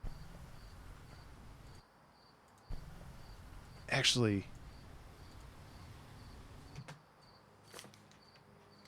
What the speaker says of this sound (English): because there's like some crickets outside.